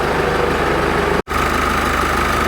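A Jeep 2.8 litre common rail diesel engine idles steadily and evenly up close, a smooth low rumble with a fine regular pulse, briefly cut by a short dropout midway.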